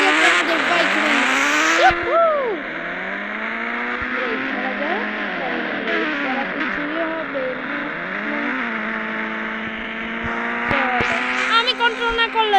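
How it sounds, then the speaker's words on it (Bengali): A Kawasaki Ninja motorbike in a racing video game revs hard, its engine whine climbing and dropping through gear changes with tire squeals and skids, loud and continuous throughout. "এখন চলো শুরু করা যাক আমাদের বাইক রেস।"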